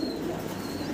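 A pair of black pigeons gives a brief, steady low coo, close and continuous for about a second with no one speaking.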